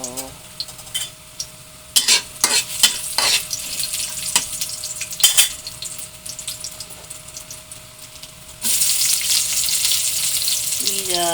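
Onion and garlic sizzle and fry in a pan, with sharp scraping stirs and clinks through the first half, then a louder, steadier hiss of frying takes over near the end.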